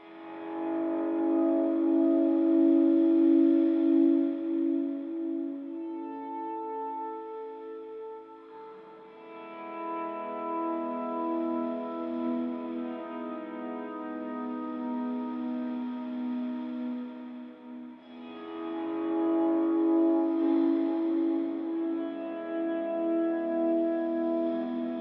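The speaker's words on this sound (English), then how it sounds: "putting my overdrives or distortions before my volume pedal, just so there's no change of gain when I'm trying to do swells with my distortion" Distorted electric guitar swells through an HX Stomp volume pedal, sustained chords fading in and out in three long waves with chorus and echo, played alone without talk.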